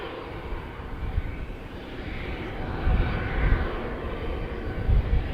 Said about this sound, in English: WestJet departing to Toronto pretty soon